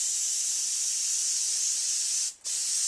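An airbrush sprays paint, switching from green to purple, as a steady close-up hiss that runs almost unbroken, with one brief cutoff near the end before spraying resumes.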